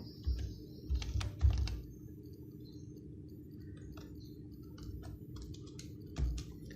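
Someone types a web address into a browser search bar on a computer keyboard, sending short bursts of quick, close key clicks with brief pauses between them, with faint low thumps under them and no voice.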